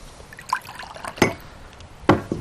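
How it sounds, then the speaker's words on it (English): Water poured into a glass holding drops of chlorine dioxide, heard as a few short splashing bursts and a trickle, one near the middle and a louder one toward the end, with quiet room tone between. "So it's prime time to add your water"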